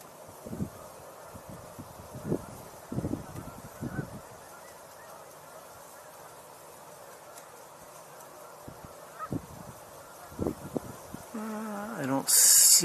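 Geese honking in flight, a scattered flock heard at a distance in open air, faint irregular calls coming in small clusters between quieter gaps, with a louder burst of noise at the very end.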